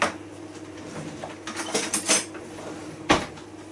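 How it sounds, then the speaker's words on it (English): A metal lid set back onto a cooking pot of beef and pork, soft scraping and clinking followed by one sharp metallic clack as it seats, over a low steady kitchen hum. "Put the top back on."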